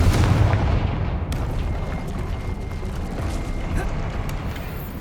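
A Confringo fire spell explodes in a Harry Potter video game with a loud booming blast at the start, then a rumbling, crackling tail that fades slightly over the next few seconds.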